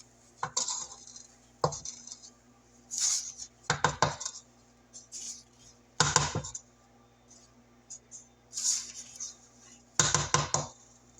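A spatula scraping flour down the sides and bottom of a mixing bowl for passion fruit pound cake batter, giving several separate bursts of clinking, scraping strokes with short pauses between them.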